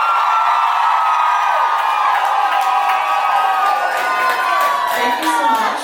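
Loud crowd cheering and whooping at a live podcast taping fills the whole stretch, a dense sustained roar of many voices with shouts rising over it.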